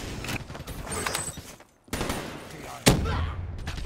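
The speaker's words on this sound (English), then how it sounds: "A trip mine, really. Teammate triggered that." Explosion from a trip mine in Call of Duty: Black Ops III, a sharp loud blast near the three-second mark rising out of dense, continuous game gunfire and combat noise.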